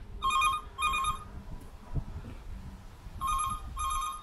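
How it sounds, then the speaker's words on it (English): An old telephone kiosk phone rings like a house phone: two bursts of bright double-bell trilling, a pause filled with quiet background shuffling, then two more bursts, close and clear. "it sounds just like a house phone."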